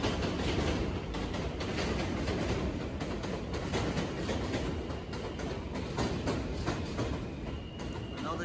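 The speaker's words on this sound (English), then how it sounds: "Another J train." A New York City subway J train rolls past in Bed-Stuy, Brooklyn, producing a steady, loud rumble with rail clatter that persists throughout and does not fade.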